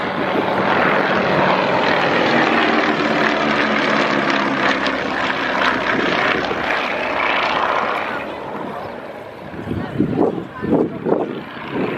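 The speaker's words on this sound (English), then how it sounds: "This aircraft is wearing the markings to represent K6183, a Mark 1 Anson" An Avro Anson Mark 1 twin-engine propeller aircraft with wooden wings drones overhead at the Wings Over Wairarapa airshow, a loud sustained engine roar that fades, leaving scattered crowd noise and talk.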